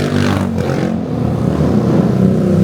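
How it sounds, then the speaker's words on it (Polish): Motorbikes and scooters drive along a busy street in Bali, a steady close engine drone with rising revs and passing traffic throughout. "Bo jeździ tutaj mnóstwo motorków."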